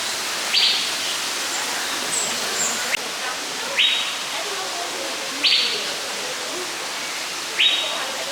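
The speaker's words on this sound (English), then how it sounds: "can hear all the birds up in the air." Birds call inside Chester Zoo's Monsoon Forest, a tropical indoor habitat: a repeated sharp whistled call sounds about four times at regular intervals over a steady wash of ambient hall noise.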